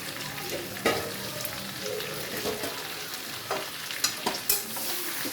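Chicken being stirred in a pan for lemon chicken, a steady sizzle of frying with several sharper scrapes of the spoon against the pan, close and alone with no talking.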